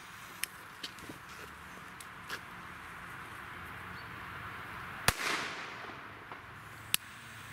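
A Dragon Bomb firecracker goes off outdoors with one sharp, fairly distant bang followed by a brief hissing burst, among a few fainter scattered cracks on a quiet background.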